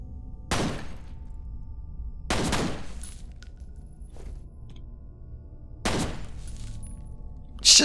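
Gunfire in a first-person shooter video game: three sharp bursts of shots spaced a couple of seconds apart, with a faint single pop between and a brief crash at the end, over quiet background.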